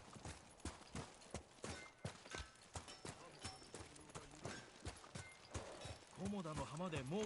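Hooves of a horse in the video game Ghost of Tsushima clip-clop in a steady galloping rhythm under game music and character dialogue, with a brief whinny near the end.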